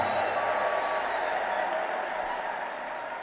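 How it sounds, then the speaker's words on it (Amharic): Church congregation applauding and ululating, a broad steady wash of clapping with a high sustained ululation tone on top, loud at first and slightly fading. "እስቲ እልልታና ጭብጨባ ለሰራዊት ጌታ ለእግዚአብሔር።"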